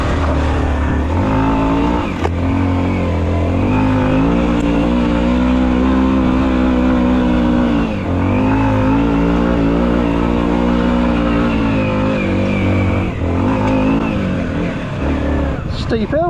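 A Yamaha WR125R off-road motorcycle labours up a steep hill, its small engine droning loud and continuous with shifting revs throughout.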